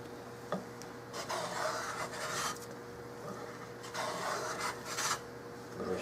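A hand plane set very light shaves high spots on a Remington 700 rifle stock, giving soft rasping strokes in repeated bursts at a moderate pace, faint and close.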